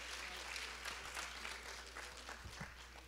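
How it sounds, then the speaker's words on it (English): A crowd claps for the newly crowned Mister and Miss Coppin State University and royal court, a brief, fairly distant burst of applause with a low steady hum underneath. "Clap it up for them one more time."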